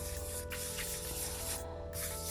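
Light wet sanding with 1000 grit sandpaper on the thin nitro finish of a 1972 Gibson SG Deluxe guitar: a steady close hissing rub with slight rhythmic strokes and no talking.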